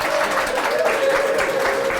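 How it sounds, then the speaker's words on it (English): A studio audience applauds steadily and fairly loudly throughout, a dense even wash of clapping with no breaks. "round of applause for our audience here"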